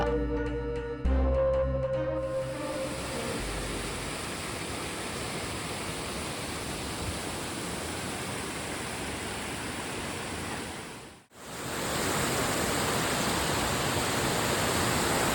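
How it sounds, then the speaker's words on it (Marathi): Kanchan Waterfall in the Sahyadri hills near Junnar fills the scene with a steady broadband roar after a few brief tones at the start, cutting out briefly near the end before resuming. "फारच सुंदर धबधबा आहे"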